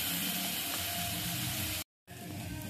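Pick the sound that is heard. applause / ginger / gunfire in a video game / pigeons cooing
ginger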